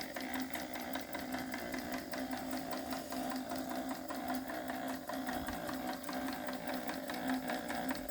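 A modified Ertl IHC toy hit-and-miss engine model runs steadily at close range, giving a continuous rapid mechanical chatter with a constant hum throughout and no talking.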